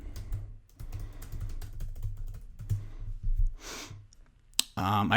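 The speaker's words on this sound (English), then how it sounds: "So if I type in my keyword" A keyword is typed on a computer keyboard in a burst of quick close key clicks. Near the end a sharp click is followed by a short electronic sound.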